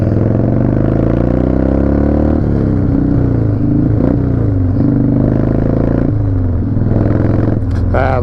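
Engine of a Harley-Davidson Super Glide motorcycle, a model from around 1971 or 1972, running steadily at close range with a deep rumbling idle and slight revving, while someone talks over it throughout.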